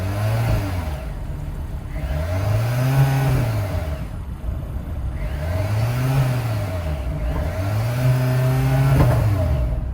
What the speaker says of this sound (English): that was the sound of the hybrid setup sold by Hyundai for the 2024 Santa Fe Hybrid